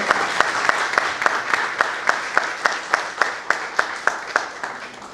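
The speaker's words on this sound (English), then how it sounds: "Please give a huge round of applause for Dr." An audience at an AI conclave applauds with steady, rhythmic clapping that holds an even beat throughout, fairly loud and close.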